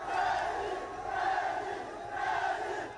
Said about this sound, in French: Devant le domicile d'Ousmane Sonko, la foule afflue.